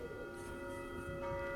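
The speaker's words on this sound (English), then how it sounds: "The bells begin to ring." Bells ring in a quiet, faint wash of sustained tones, with a steady hum and a soft low rumble beneath, and no talking.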